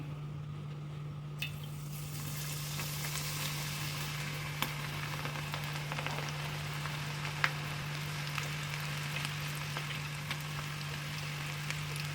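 Onion pakoda batter dropped into hot oil fries with a faint, steady sizzle, with scattered small crackles over a low electrical hum.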